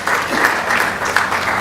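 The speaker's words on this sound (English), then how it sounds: "let's give him a big round of applause for sponsoring for the Annadan Seva" Brief burst of audience applause at a devotional gathering for a scripture class: lively hand clapping from a roomful of people, loud and close, lasting under two seconds.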